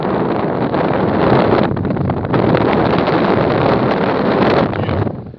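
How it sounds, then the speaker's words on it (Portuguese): Strong wind buffets the microphone at the Prata dam spillway in Bonito, Pernambuco, as water overflows the crest, a loud, steady roar of gusting noise throughout that cuts off sharply at the end. "Com esse vento forte, a água já verte por cima, um pouquinho de nada."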